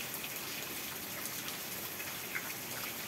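Heavy rain pours down in a dense, continuous hiss of drops with a few louder patters, fairly quiet overall and with no one speaking.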